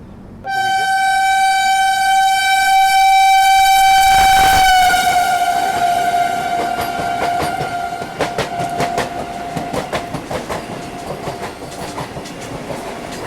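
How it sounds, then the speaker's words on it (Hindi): A Vande Bharat express train passes and accelerates, a long loud horn blast opening it, followed by steady rail rumble and rhythmic clickety-clack of wheels over joints, close by. "ये भी मेरे ख्याल से वाराणसी वंदे भारत लग रही है मुझे।"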